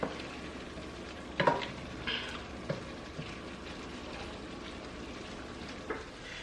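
Garlic sizzles quietly in a hot pan for shrimp fried rice, a soft steady frying hiss broken by a few sharp clicks and scrapes of a utensil stirring.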